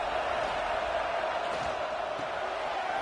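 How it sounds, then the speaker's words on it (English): A fired-up football stadium crowd on game day makes a dense, steady roar, loud and continuous throughout with no break. "It's early, but this crowd is fired up. this noise here."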